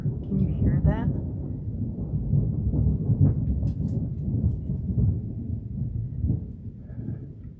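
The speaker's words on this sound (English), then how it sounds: "So that is hella thunder." Deep rumbling thunder rolling steadily and fairly loud through the whole stretch, a low continuous growl with no break.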